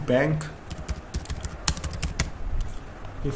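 Keys clack on a computer keyboard as a short burst of quick, uneven taps, up close and fairly quiet, with a voice speaking at the start.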